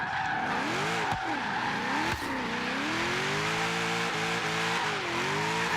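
Race car engine in a racing video game revving and accelerating, the pitch rising and falling through gear changes, with faint tire squeal over a loud, continuous drone.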